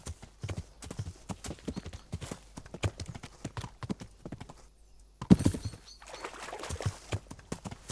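Horse hooves clop in a quick, steady walking rhythm in the video game Kingdom Come: Deliverance, with a short pause and a soft snort partway through.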